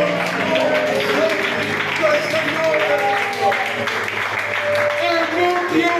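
A church congregation applauds at length, a dense sustained patter of clapping layered under ringing singing or music tones that carry through the whole stretch.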